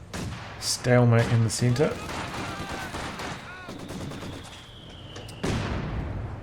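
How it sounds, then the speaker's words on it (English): Mortar and gunfire in a Company of Heroes match, with repeated booming and crackling shots in a dense burst near the start, then scattered impacts and a final loud blast, while a commentator talks over it. "Getting mortar kind of covering both players here."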